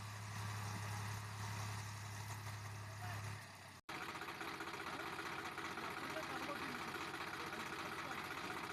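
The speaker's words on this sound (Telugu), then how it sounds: "ఇది నేనే ఫస్ట్ టైం ట్రాక్టర్ డ్రైవ్ చేస్తున్నాను" A tractor engine idles with a low, steady drone on a farm during land fencing work, then after a short break the engine sound continues rougher and more spread out, with faint talk in the background.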